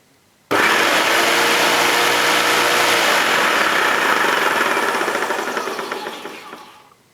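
A Hoover Turbopower 2 U2462 upright vacuum cleaner switches on abruptly and runs with a loud, steady, close motor roar that fades gradually in the last couple of seconds, with no talking.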